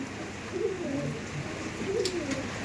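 Soft, low coos from Andhra pigeons in a pigeon sale pen roll out in a few repeated phrases over a steady background hum, no voices present.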